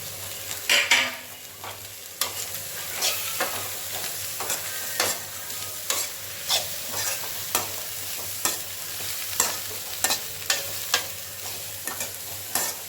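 Carrots, beans and cabbage stir-fry in a pan for egg noodles, a continuous sizzle under repeated scraping and clacking strokes of a spatula, close and steady, with no one speaking.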